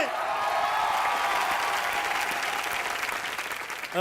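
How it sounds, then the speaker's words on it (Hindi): A studio audience at a Hindi TV entertainment show claps loudly and steadily for about four seconds. The dense burst of clapping fades slightly at the end. "एक बार जोरदार ताली मारे।"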